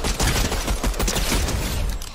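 A gold pistol in Fortnite fires in a rapid, continuous volley of dense crackling shots, loud and close, with no talk.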